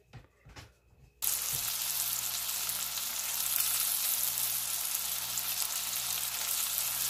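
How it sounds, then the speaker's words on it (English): A pot roast hits hot olive oil and sears with a loud, steady sizzle that starts abruptly after a few soft clunks and continues unbroken to the end. "and then we're gonna get this seared up."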